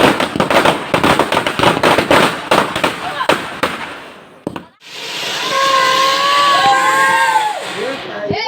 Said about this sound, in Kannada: ಈಗ ನಾವು ಹೊರಗ ಪಟಾಕಿ ಹಚ್ಚಂಬರ್ರಿ.